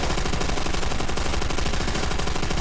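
An MG42 machine gun in Call of Duty Zombies on Nacht der Untoten fires one continuous, very loud, rapid-fire burst that fills the whole moment with dense rattling shots.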